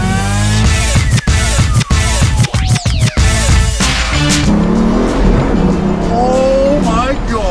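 Loud Mansory edition Bugatti Veyron accelerating hard, engine pitch sweeping up through several gear shifts with sharp breaks between them, then a rougher roar with tire noise and a voice over it.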